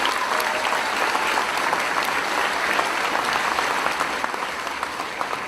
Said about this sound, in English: Let's give Mr. Gallo another round of applause.